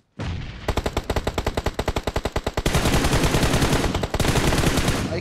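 Rapid automatic gunfire in a shooter video game, a fast steady string of loud shots followed by denser continuous firing, close and dominant with no talk.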